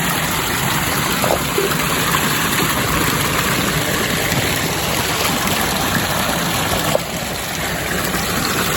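Three backyard pool fountains pour water into a pool in a steady, loud, continuous splash that masks other noise.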